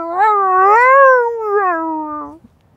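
A person does a voice imitation of a deaf tomcat meowing, drawn out into one long, wavering, tonal yowl that swells and then fades, loud and close, with no other talk.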